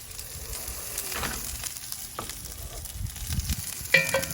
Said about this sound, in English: These have been searing on their sides.